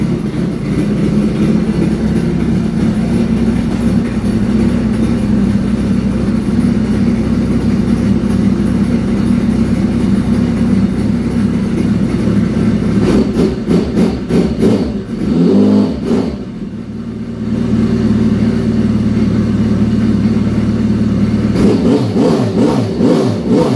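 A stock turbo jet ski engine, on a test ride on open water after slipping into limp mode, drones loud and steady, briefly cutting out mid-run before roaring back up.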